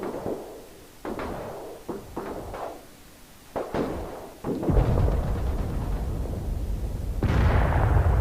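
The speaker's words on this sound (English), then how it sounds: "They're firing at each other even though they can't see each other because they've got buildings in the way." Ground units firing at each other across buildings in the DCS World combat game, a series of sharp gunshot and artillery-like bursts spaced irregularly, followed by a sustained rumbling roar of battle noise.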